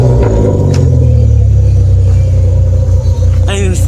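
A 1995 Toyota T100 with a 3.4-litre engine and glasspack exhaust idles with a loud, deep, steady throaty rumble up close, while a person talks over it.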